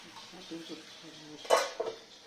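Spicy chicken is stirred in a pan, with metal utensil scrapes and clinks against the pan, a louder knock midway, over a low background hum.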